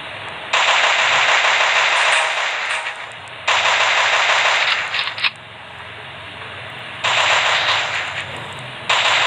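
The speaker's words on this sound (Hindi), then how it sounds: "इसको हम मिनी 94 से मारेंगे" Mini 94 rifle fire in a mobile shooter game comes in three loud, dense bursts, each lasting about one and a half to two seconds, separated by brief gaps.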